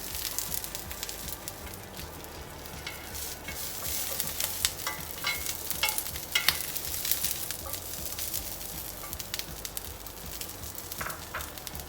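Roughly a cup and a half of fresh green beans sizzle and crackle softly in a pan as they cook for a grilled succotash, a low steady frying hiss with small scattered pops and no talk.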